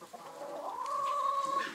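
A chicken on a farm in Bhutan gives a single drawn-out clucking call, fairly close and clear against a quiet background, with no talking.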